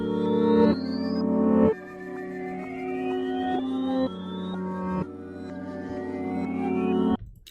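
Reversed music sample for a hip-hop loop, with sustained harmonic tones swelling and cutting off abruptly in repeated backward-sounding phrases, loud and clear with no voices.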